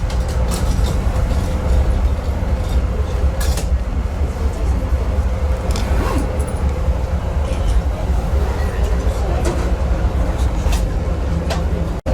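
A steady, loud rumble of the Denali Star passenger train rolling along the tracks between Fairbanks and Wasilla, Alaska, with faint clacks and hiss throughout and no pauses.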